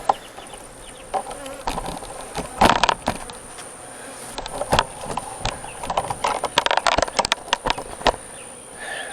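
Honeybees in an open hive, moved from a 55-gallon drum into a box, buzz steadily and close throughout, with scattered crackling and clicking from the hive being handled and no talking.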